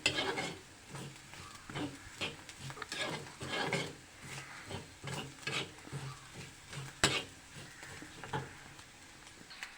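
Grated coconut being stirred while roasting in a clay pot, with a steady series of scraping, rustling strokes and a soft sizzle, each stir rising and falling in a loose rhythm, close and moderately quiet.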